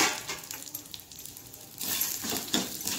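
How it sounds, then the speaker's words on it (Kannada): Mustard seeds tipped into a hot pan for a Mangalorean Bengal gram and elephant foot yam dish, giving a faint scattered patter followed by a brighter crackling sizzle. "ಮತ್ತು ಇದರಲ್ಲಿ ಸಾಸಿವೆಯಲ್ಲಿ 1/4 ಸ್ಪೂನ್ನಷ್ಟು ಸಾಸಿವೆಯನ್ನು ಹಾಕ್ಕೊಳ್ತಿದ್ದೇನೆ"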